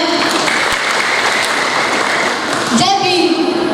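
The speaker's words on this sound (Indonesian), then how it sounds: "Boleh tepuk tangannya?" An audience at an Indonesian midwives' association anniversary celebration claps in a dense burst of applause for a few seconds. The clapping breaks off near the end, and a voice starts to come in over it.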